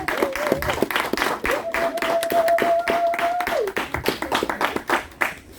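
An audience claps loudly and continuously for the women artists at an art exhibition in a chapel, with scattered individual hand claps and a voice carrying over the applause.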